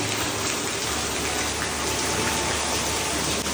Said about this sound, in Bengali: এই দেখো জাস্ট ওয়েদার, বৃষ্টি।